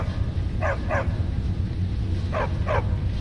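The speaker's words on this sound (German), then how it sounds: "Hundi!" A dog barks in The Elder Scrolls V: Skyrim, two quick pairs of barks, the first pair near the start and the second near the end, over a steady low game ambience.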